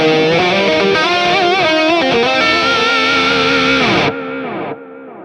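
Electric guitar through an Atomic Ampli-Firebox amp modelling pedal with boost, reverb and delay engaged, playing loud, distorted sustained chords and notes that end abruptly and leave a short, fading delay-and-reverb tail.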